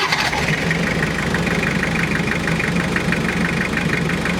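A Toyota Dyna's 3L diesel engine idles just after starting, a steady close mechanical rumble carrying a regular ticking knock throughout.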